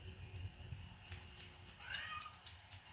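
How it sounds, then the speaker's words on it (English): A pet cat meows a few times during a dog grooming session with scissors, its short, fairly faint calls standing out above a low room rumble and small handling noises. "Did you hear my cat say meow?"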